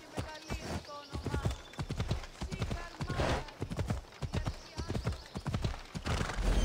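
Horse hooves clip-clop in Assassin's Creed Odyssey, a steady galloping rhythm of sharp, repeated hoofbeats with an occasional whinny, while someone talks over it.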